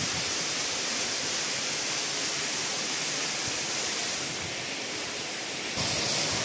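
Water rushes steadily down from green hills near the Dantala Sharif dargah, a continuous broadband roar of falling and flowing water, loud and close, with no voices over it.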